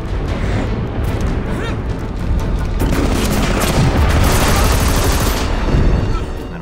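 Gunfire from the video game Army of Two: The 40th Day, a dense, loud barrage of overlapping shots and booming blasts, continuous and building in intensity, with music or effects layered underneath.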